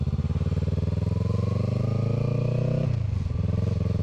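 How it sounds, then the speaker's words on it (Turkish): A motorcycle engine revs steadily at a raised idle, its pitch climbing slightly before dropping sharply near the end and settling back into a rough, throbbing idle, close and loud with no talk. "motoru deviriyordum"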